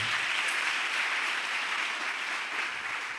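Church congregation applauding during a worship service, a steady, dense wash of clapping from a crowd that fills the room, continuous and fairly loud with no voices over it.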